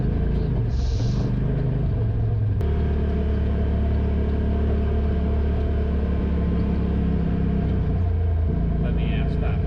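A side-by-side UTV idles and creeps along a Colorado mountain trail near Tincup, its low engine rumble steady and close throughout, with a brief sharp knock partway through as it passes a gate.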